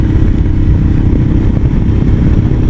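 A 2019 Royal Enfield Himalayan 400cc motorcycle engine running while riding, a loud, steady low rumble with wind buffeting and no pauses.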